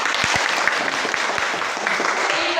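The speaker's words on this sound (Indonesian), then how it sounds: "Baik, tepuk tangan." Close, dense audience applause fills a classroom or presentation room, a steady burst of many hands clapping with a few sharp louder claps standing out, no speech over it.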